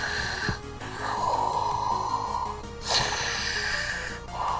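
A man imitates snoring with his voice, giving two long, rasping snorts that rise and fade, with a short pause between them.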